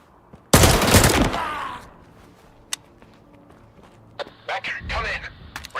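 Gunfire in the video game STALKER 2 opens with a loud, long burst of shots that fades out, then a single sharp crack, followed by several shorter bursts of firing near the end.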